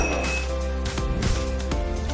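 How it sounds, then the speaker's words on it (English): A cocktail shaker filled with ice and Bloody Mary ingredients is shaken in a steady rhythm, its rattling clinks repeating roughly every half second over a constant background of music. "Shake it up"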